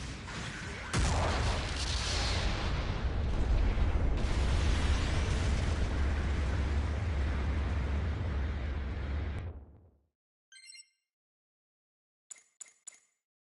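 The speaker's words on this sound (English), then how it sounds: "Mobile suit has been destroyed." A mobile suit explodes in a video game with a loud, sustained roaring blast that rumbles for several seconds and then cuts off, followed by a few short electronic chimes and clicks.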